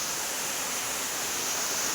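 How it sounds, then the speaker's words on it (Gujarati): Waterfall in a hilly forest, water dropping from high up, a loud, continuous, even hiss and roar with no voices. "તમે ઠેઠ ઉપરથી પાણી પડે છે લગભગ ઠેઠ ઉપરથી આવે છે"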